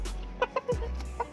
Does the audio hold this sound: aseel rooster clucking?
yes